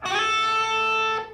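A single sustained metal lead guitar note, slightly distorted, rings out clearly for about a second after a quick slide up into it, then cuts off.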